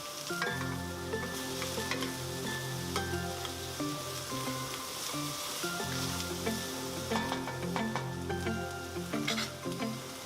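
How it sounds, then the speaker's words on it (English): Onions and chopped carrot sauté in a pan for hibachi-style fried rice, giving a steady close sizzle with occasional stirring scrapes, and no voices. "we can add our onions and our chopped carrot. And we're just going to saute this for a few minutes"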